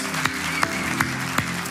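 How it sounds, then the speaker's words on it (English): Applause from a church congregation during a service, a steady wash of clapping with a few sharper, louder claps standing out at regular intervals. "Can we give a round of applause for watering our camels"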